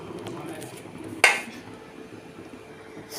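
A lid drops onto a cooking pot of thin meat curry with a single sharp clank, then everything falls back to a low background hum.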